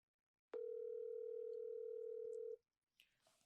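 Steady ringback tone of a telephone call placed on speakerphone, one long unbroken buzz lasting about two seconds, clear and close, followed by faint rustling.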